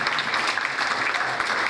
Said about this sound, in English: one last round of applause for all three of our counselors and your senior advisors